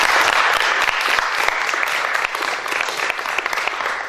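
Lively applause fills a room during a student Model United Nations simulation after a resolution passes, a steady burst of many hands clapping with some sharp individual claps standing out.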